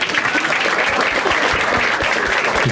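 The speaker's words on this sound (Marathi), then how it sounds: "एकदा टाळ्या होत्या याच्यासाठी" An audience bursts into applause at a standup comedy show, with dense, steady clapping from a crowd lasting throughout and a few faint voices mixed underneath.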